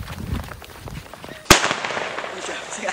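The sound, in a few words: Roman candle firework being lit and shooting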